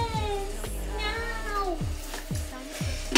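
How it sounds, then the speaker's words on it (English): A cat meows repeatedly from a window, several rising and falling cries in quick succession, fairly close and clear. "As you just heard, that was Dribble meowing from the window"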